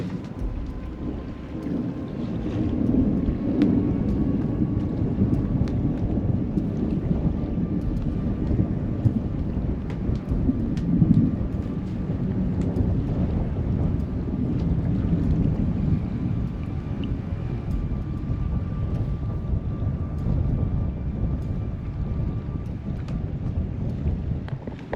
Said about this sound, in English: you can see and hear this storm.